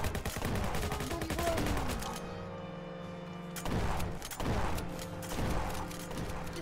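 Rapid bursts of gunfire in the online game Roblox crackle and rattle for several seconds, with repeated sharp volleys over a dense mechanical clatter and no talking.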